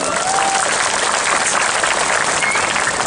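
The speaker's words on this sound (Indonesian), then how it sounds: "Tepuk tangan buat semua." Loud, dense applause from a crowd at a religious lecture, continuous hiss-like clapping throughout with no gaps.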